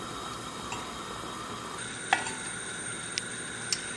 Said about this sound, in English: So we're melting the butter.